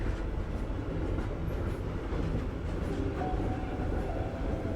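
A train moving in the game Howler, a steady, dense rumble of wheels and carriage noise, loud and continuous throughout with no pauses and no talking.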